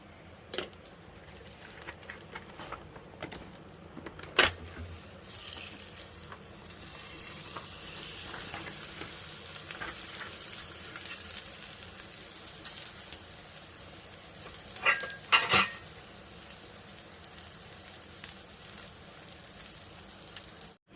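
Multigrain roti frying in oil on a hot griddle over low heat, a soft, steady sizzle with a few sharp clinks and scrapes of a utensil against the pan.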